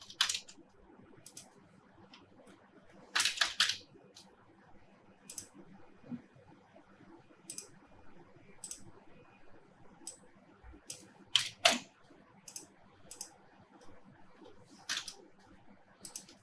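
Computer keyboard being typed on with random data entry: sparse, uneven clicks and small bursts of keystrokes, close and fairly quiet over a faint steady background hum.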